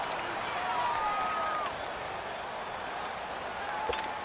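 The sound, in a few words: home crowd noise at football game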